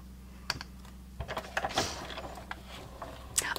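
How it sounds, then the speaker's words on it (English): A die-cutting machine feeds paper through under a cutting plate, giving a run of close, irregular clicks and rattling knocks over a low mechanical hum. "as I'm running these through the machine"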